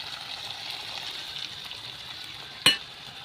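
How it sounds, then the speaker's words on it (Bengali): Spice paste frying with ginger and tomato in a pan, a faint steady sizzle running throughout, with one sharp clink near the end. "আমার আদা টমেটো ভাজা হয়ে গেছে, এবার পেস্ট মশলাটা দিয়ে দেবো।"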